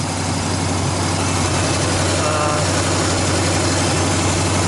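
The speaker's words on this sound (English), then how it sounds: "sometimes it idles, some other times it doesn't, like right now." A 1986 Chevy K-10 truck engine idling, heard as a loud, steady, close rumble with an even low pulse and no break or talk throughout.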